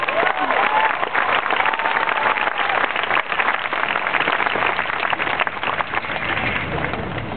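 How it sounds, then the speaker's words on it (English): A crowd at a high school graduation ceremony gives a sustained round of applause, dense and steady throughout, with some cheering voices mixed in. "Let's give Mr. Daniel Hooks one more round of applause."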